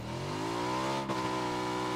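A motorbike engine revs hard in the PUBG battle royale game on Xbox One X, a loud, steady whine that climbs in pitch, dips briefly midway, then holds high, with no voices over it.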